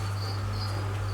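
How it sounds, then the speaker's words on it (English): Crickets in a bin chirp loudly and without pause, a dense, steady high trill close by, layered over a constant low electrical hum. "just have a look at all those crickets"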